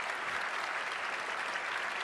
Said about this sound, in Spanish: Aplausos. Los aplausos serán reales.